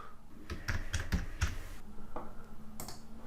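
A computer keyboard being typed on to enter a file name: a short run of light, crisp keystrokes, irregularly spaced, close and fairly quiet, with a few louder taps near the end.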